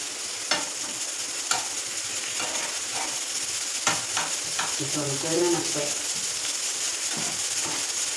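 Ginger garlic paste fries in a hot pan, giving a steady close sizzle with occasional sharp clicks and scrapes of a stirring spoon against the metal.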